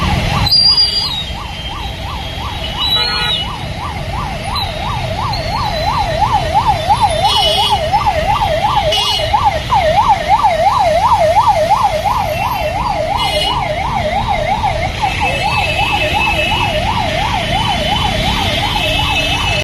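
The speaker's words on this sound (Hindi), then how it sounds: "दरिया को चीरते हुए एम्बुलेंस हॉर्न बजाती हुई रेंगती नजर आई" An ambulance crawls through flooded, jammed Delhi traffic with its siren wailing loudly and steadily, a fast rising-and-falling tone running the whole time over the rumble of traffic.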